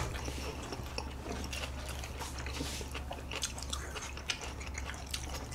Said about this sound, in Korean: 새우 터지는 게 너무 좋네요.